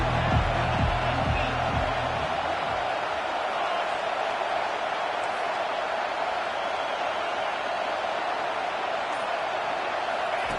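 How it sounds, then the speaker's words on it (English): Home crowd at a college football game, Vanderbilt at Florida, roaring in a broad, sustained wall of cheering from a packed stadium, with a commentator talking over it near the start. "how nice is it to have the home crowd going absolutely bananas?"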